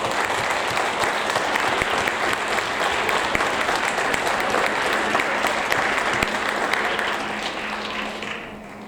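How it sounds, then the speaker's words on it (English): Audience applause at a sixth grade school awards ceremony, a dense steady roar of many hands clapping for the full stretch, tapering slightly near the end. "Give them all a nice big round of applause."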